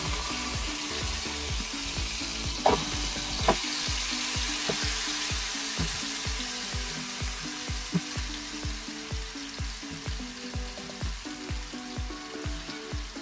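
Biryani chicken fries in hot oil with a steady sizzling hiss, broken by regular low scraping and stirring strokes in the pan and a couple of louder clatters, close up and with nobody talking.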